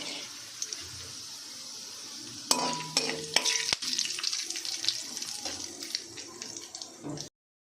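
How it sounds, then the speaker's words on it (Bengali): Bay leaves, cinnamon, cardamom, cloves and cumin hit the hot oil left from frying paneer, giving a steady close sizzle with a few sharp utensil clinks midway before cutting off abruptly. "পনির ভাজার তেলে 2টো তেজপাতা, দারচিনি, গরম মশলা, এলাচ, লবঙ্গ, একটু সাদা জিরে দিয়ে ফোড়ন দিয়ে দেবো।"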